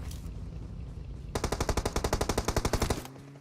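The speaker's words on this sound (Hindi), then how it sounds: "पीछे पे गोलियां चलने लग जाती है।" Rapid automatic gunfire in PUBG Mobile, a steady burst of about twenty shots in quick succession following a low engine-like rumble from a buggy, then it stops.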